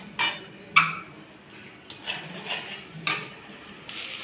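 Potatoes and spices for a fish curry are stirred in a metal pan, a spoon scraping and clinking against the sides in several separate strokes, close and fairly loud with short pauses between.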